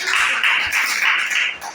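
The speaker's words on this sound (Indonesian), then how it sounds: "Oke, tepuk tangan dulu ya." Students in a classroom clap briefly, a short burst of close, dense handclaps lasting under two seconds.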